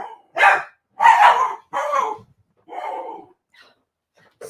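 A dog barks in four loud, close bursts of about half a second each, with short gaps between, followed by a few faint yips.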